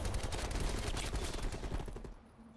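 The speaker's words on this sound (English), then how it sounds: "just getting shot from the window, man" Rapid automatic gunfire in the video game Call of Duty Cold War, a dense burst of shots that fades over its final half second, fairly quiet and with no talk.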